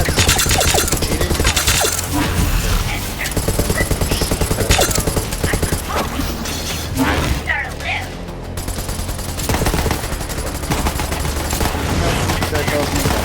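Dense, loud bursts of legendary weapons firing in Borderlands 3, with rapid automatic volleys, booming blasts and shattering impacts that run almost without a break, and a voice talking over parts of the barrage.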